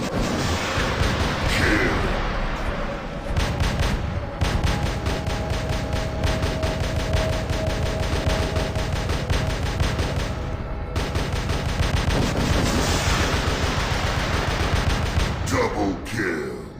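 Sustained automatic gunfire and heavy weapon bursts in the War Robots mech combat game, loud and dense through most of the stretch, with a few brief gaps and sweeping effects.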